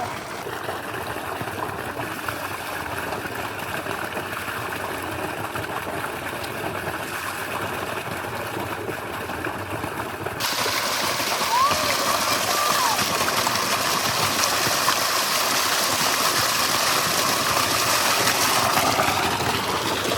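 Tap water runs steadily over skinned quail meat being washed in a village kitchen, a continuous splashing rush that grows louder and fuller partway through.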